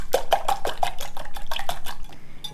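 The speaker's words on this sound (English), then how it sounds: "All right, I'm going to whisk these up." Wet ingredients for protein bagels whisked briskly in a bowl, a rapid close series of rhythmic clinks and swishes, about a dozen strokes, no voices.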